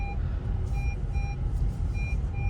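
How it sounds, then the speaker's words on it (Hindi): Handbrake-on warning chime inside a 2022 Honda City, a series of short repeating electronic beeps in a steady rhythm over low engine and road rumble. "इस बीप का मतलब ये है कि आपकी हैंड ब्रेक ऊपर है।"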